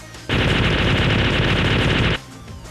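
A robot named Omega in a Sonic fan film lets off a loud, close burst of rapid automatic gunfire lasting about two seconds, set against a quieter background.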